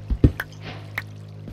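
A few distinct water drips plinking one after another in a video game cave, echoing slightly in an otherwise quiet space with a low steady hum.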